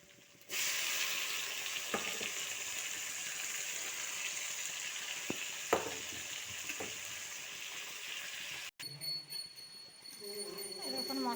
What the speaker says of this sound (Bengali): দেখুন মশলাটা কষা হয়ে যাচ্ছে